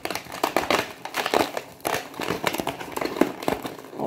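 A balloon is pulled free from inside a dried, glued shell, making a close run of irregular crinkling and crackling rustles over a few seconds.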